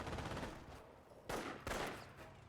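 Machine gun fire in a video game battle sounds as faint, rapid rattling bursts, with two sharper, louder volleys toward the end.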